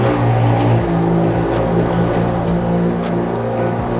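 A 2022 Subaru WRX engine runs loud and steady nearby, a deep continuous rumble with slight shifts in pitch and a few sharp clicks over the top.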